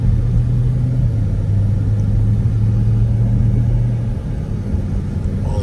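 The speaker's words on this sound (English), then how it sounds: "All this goddamn traffic." A steady low rumble of road traffic and engine drone fills the cabin of a Ford Expedition Platinum, a constant loud hum that eases slightly near the end.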